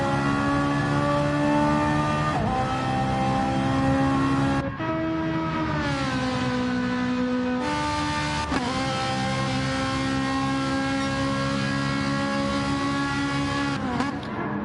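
A Ferrari race car in a racing video game at Goodwood holds a loud, steady engine note throughout, with a sharp gear change or lift near five seconds and pitch shifts around eight and fourteen seconds.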